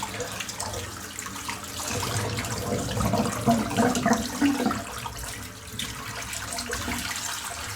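Water draining out of a bathroom sink, a continuous gurgling wash that swells in the middle and then settles, close and fairly loud, with no voices.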